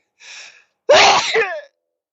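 A single person sneezes up close: a short breathy intake, a brief pause, then a loud explosive burst that trails off.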